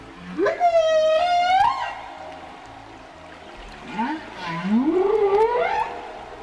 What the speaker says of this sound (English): We've heard from whales.